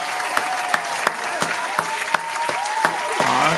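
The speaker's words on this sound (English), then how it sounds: "Round of applause to Stu Sims." Studio audience applause for a guest at a talk show, a steady burst of hand clapping with distinct loud claps standing out, continuous and fairly close for a few seconds.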